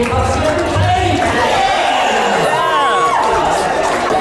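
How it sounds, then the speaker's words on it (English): Wedding guests in a reception room cheer loudly, with whoops, shouts and rising whistles over a busy crowd roar, voices mixed in throughout. "Let's give a massive round of applause for the"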